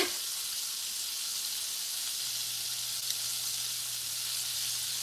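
Steady, close sizzling of Korean fried chicken frying in hot oil, a constant crackling hiss with a faint low hum joining partway through.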